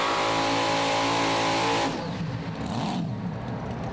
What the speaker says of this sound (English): All of the tractors in the class today are V8 configurations running on methanol, most of them using a high helix blower.